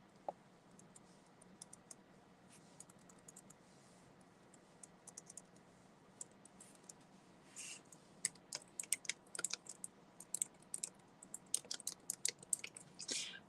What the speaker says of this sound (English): So I will type this in here.